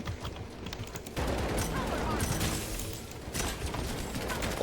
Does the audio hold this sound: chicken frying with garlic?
no